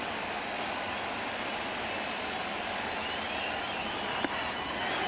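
Philadelphia baseball crowd at an NLDS playoff game between the Mets and Phillies, rising to its feet with a sustained, dense roar of cheering that holds steady throughout, heard from a distance and filling the whole space.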